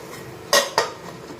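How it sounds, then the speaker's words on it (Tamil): A metal lid set on a cooking pot of semiya upma gives two quick clanks close by, one right after the other, against a quiet kitchen background. "நம்ம மூடி வச்சுருவோம்"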